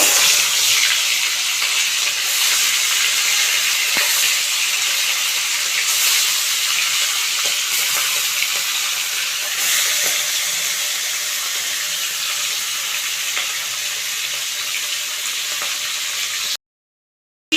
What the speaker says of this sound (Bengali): আমি একটু হালকা করে ভেজে নেব